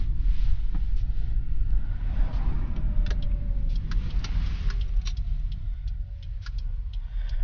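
A steady low rumble of a BYD E5 electric car moving off and rolling along, with faint irregular ticking clicks on top. No one speaks.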